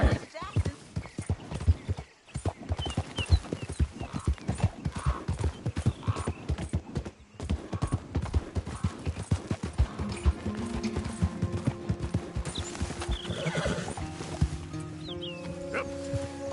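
Rapid rhythmic hoofbeats of a galloping horse in Red Dead Redemption 2 pound steadily, with voices talking over them and a brief whinny near the end.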